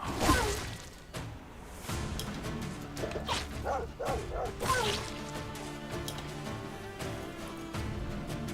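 Wild dogs barking, yipping and whimpering as they attack in the game Stoneshard, with swishing weapon swings and thwacking hits mixed into a busy, steady game soundtrack.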